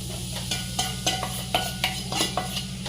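Khoa roasting in a kadai, with a spoon or spatula scraping the pan in a regular rhythm of close, sharp strokes over a soft, quiet sizzle.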